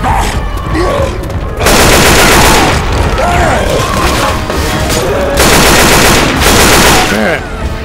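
Heavy, sustained automatic gunfire in a video game, loud rattling volleys with booming hits, swelling in two long dense bursts amid chaotic combat noise.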